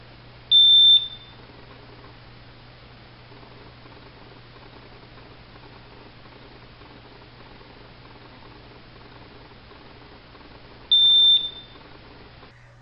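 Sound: smoke detector self-test alarm beeping

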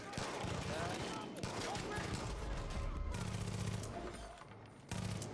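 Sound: gunfire in video game Far Cry 5

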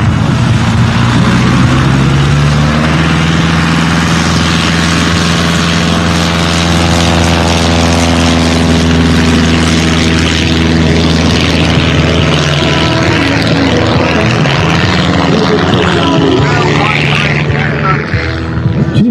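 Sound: Super Cub airplane engine during takeoff

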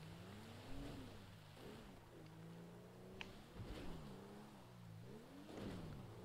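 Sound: car engine struggling in a video game (Grand Theft Auto)

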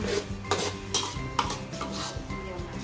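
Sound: stir-frying salted egg chili paste in a pan

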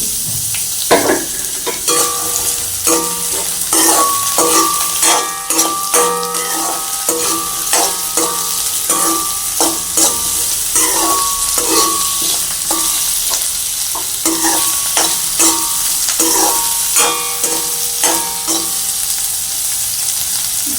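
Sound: onions frying and being stirred in hot oil

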